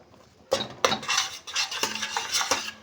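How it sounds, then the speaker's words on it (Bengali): A metal spoon scrapes and clacks against a pan while chole masala is stirred over low heat, giving a few sharp knocks followed by busy, uneven scraping at close range. "এবারে এটা দিয়ে ধিমে আঁচে ভালো করে কষবো।"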